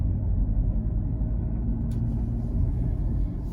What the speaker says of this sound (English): We're just driving in eco mode now, which is basically the same as normal. You can hear what it sounds like.